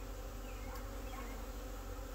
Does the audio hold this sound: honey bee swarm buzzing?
yes